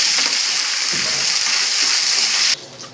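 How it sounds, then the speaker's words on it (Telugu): Onions with ginger garlic paste frying in a pan for a spicy chicken fry, a loud steady broadband sizzle that drops off sharply near the end. "కొంచెం గోల్డ్ కలర్ వచ్చేంత వరకు ఫ్రై చేసుకోవాలి ఆనియన్స్. అల్లం వెల్లుల్లి పేస్ట్ వేయాలి ఫ్రెండ్స్."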